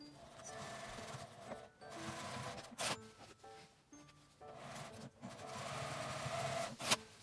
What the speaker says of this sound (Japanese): この9センチを開けて両サイドを1センチの縫い代で縫います。